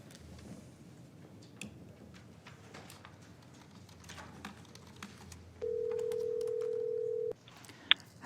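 A telephone line on a county board of supervisors meeting call gives a steady, unbroken tone lasting nearly two seconds, followed by a short beep, over faint quiet room noise as a caller is transferred in.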